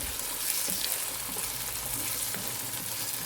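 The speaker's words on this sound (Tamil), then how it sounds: "அந்த தக்காளி பேஸ்ட்டு சேர்த்துக்குவோம். இதை சேர்த்துட்டு நல்லா மிக்ஸ் பண்ணி விட்டுக்கலாம்." Tomato paste with ginger garlic paste sautéing in a pan for mutton liver thokku, a steady close sizzle with faint stirring scrapes and no talk.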